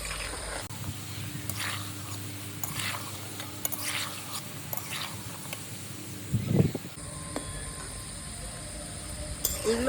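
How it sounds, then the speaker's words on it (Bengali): Sweet dough balls for madan bhaja frying in oil over low heat and being stirred, giving a steady soft sizzle with scraping stir strokes and a brief louder clatter near the end, no talk. "এই লালুগুলোগুলোকে নাড়াচাড়া করে দিতে হবে একদম আঁচ কমিয়ে করতে হবে"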